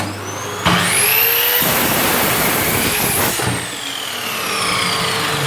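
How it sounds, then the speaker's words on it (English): A loud vacuum extractor connected to a Parkside PZKS 1500 B2 sliding miter saw whines and roars steadily, starting abruptly and running at high pitch with a hissing rush of air. "Vacuum again."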